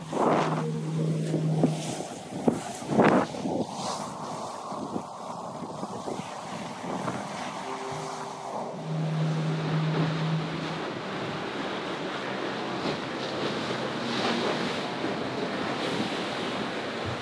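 Wind rushes over open water alongside the wash of waves and a boat's hum, with a couple of tonal horn-like sounds breaking through; no talking.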